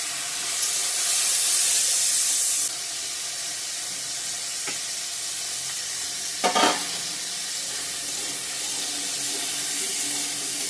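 Bori lentil dumplings fry in a pan with a steady hiss of hot oil, joined by a couple of sharp clinks as they are stirred.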